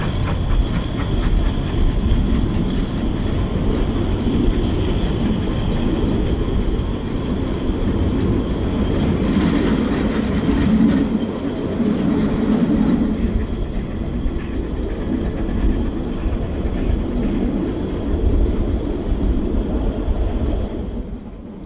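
A narrow-gauge train on the Lößnitzgrund line between Radebeul and Moritzburg rolls steadily along the rails with continuous rumbling and faint rhythmic clatter, loud and close throughout, with no voices.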